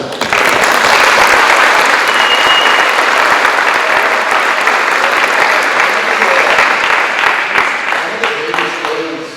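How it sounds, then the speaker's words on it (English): An audience at a school event applauds, dense sustained clapping that fills the whole stretch and slowly thins toward the end. "Please round of applause for them."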